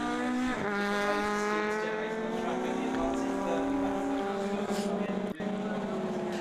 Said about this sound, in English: say the sights and the sounds are excellent as these cars go past our commentary position